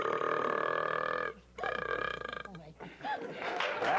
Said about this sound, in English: you're going to show how you can sustain a belch